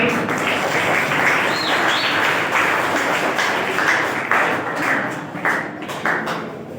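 Applause at a school prize distribution and annual results ceremony for a class teacher's certificate, a dense steady clapping from the crowd filling the whole stretch, with faint chatter mixed in.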